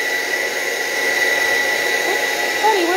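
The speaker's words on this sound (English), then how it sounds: "hand dryer." A small hand-held dryer blows air steadily while a dog is groomed during a creative grooming demonstration, giving a continuous close whooshing hiss with a faint high whine throughout.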